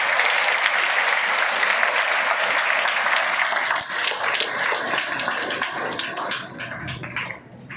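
Loud, sustained applause from a crowd of schoolchildren at a school Teacher's Day event, dense clapping that holds strong and then thins toward the end.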